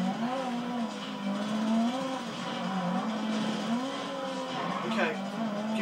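A car drives in GTA Online during a heist setup, its engine holding a steady wavering drone with rising and falling pitch and a brief skid or rev near the end, over constant game background noise.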